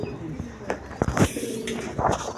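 A pair of racer pigeons nesting on two eggs coo softly at close range, with low calls and rustling mixed among other small sounds, while a person talks nearby.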